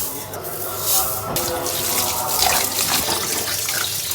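Rice is rinsed for biryani under a steady stream of tap water, splashing and sloshing close by in a sink without pause.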